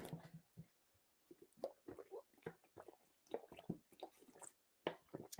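Someone drinking water at close range, with soft wet gulps, sips and small mouth sounds in an irregular rhythm, fairly quiet.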